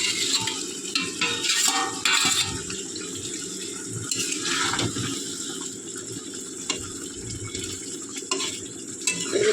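Fried goat brains go into a pot of boiling gravy with continuous bubbling and wet sizzle as a spoon stirs slowly through the mixture, close and fairly loud throughout.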